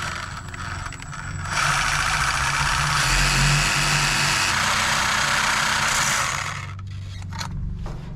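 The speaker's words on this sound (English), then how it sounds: "time to saw that out of there" Hand saw cutting through a seized hose clamp on a 1972 Jeep CJ5 water pump, a steady rasping scrape that swells louder in the middle and tapers off near the end.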